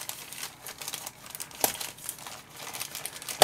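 Plastic packaging from a newly arrived parcel crinkles and rustles nearby as it is handled and pulled open, with irregular bursts and a couple of sharper crackles over a few seconds.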